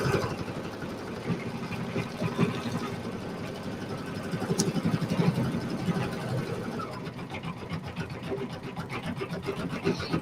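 Embroidery or sewing machine stitching a Kimberbell-style quilt project, a steady mechanical whir with rapid rhythmic needle pulses running continuously throughout at moderate level, with no talking over it.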